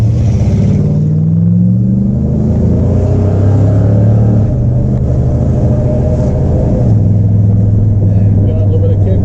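Loud, close 1969 Pontiac GTO Judge convertible muscle car engine rumbling and revving, its deep exhaust note rising and settling between throttle blips, with people talking over it.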